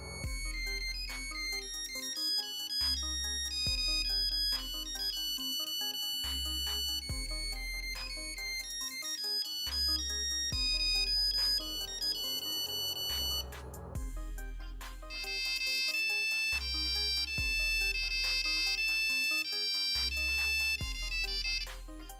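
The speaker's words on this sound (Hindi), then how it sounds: "नोकिया ने इसमें कंपोजर नाम का एक फीचर दिया था जिसमें आप कीपैड की मदद से अपने मनपसंदा रिंगटोन बना के इसमें सेव कर सकते थे" A Nokia 1100 phone plays a custom monophonic tune made in its Composer feature: steady repeating beeping melody with a pulsing rhythm, loud and close, no voices.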